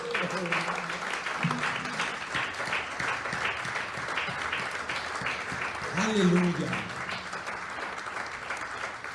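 A church congregation gives a sustained round of applause, dense and steady throughout, while a voice calls out over the clapping and sings briefly midway.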